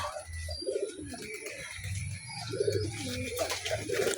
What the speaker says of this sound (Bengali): এই যে গাছেও কবুতর আছে